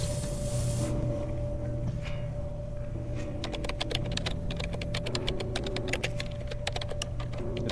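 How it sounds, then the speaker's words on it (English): Rapid keyboard typing heard as a resource-beaming effect in a space exploration video game, a dense run of clicks over a steady electronic hum and low ambient drone. "every time you need to beam something on board, it's just someone like typing away on it"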